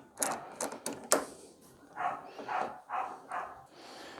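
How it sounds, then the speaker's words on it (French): Several dogs bark in a series of short, sharp yaps, then a run of fuller, more rounded barks that come roughly every half second, moderately close in a home workshop. "Et les chiens qui aboient"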